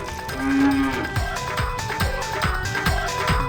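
A buffalo moos once, a short loud low call, amid rhythmic thumps and background noise from a rural Haryanvi comedy scene.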